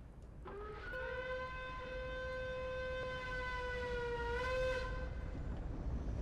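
A train pulling into a station in the Train Sim World 2022 video game sounds a long, steady horn blast lasting several seconds over low rolling rumble, sliding slightly in pitch near the end.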